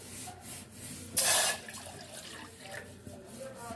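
Water, one and a half cups, is poured into a pot for Kashmiri pink tea: a brief bright splashing gush of about a third of a second, loud and close, among quiet kitchen rustling.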